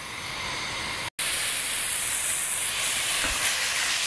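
Salted dumba karahi, fat-tailed sheep meat cooking in its own rendered fat, gives a steady loud sizzling hiss with one brief cut near the start.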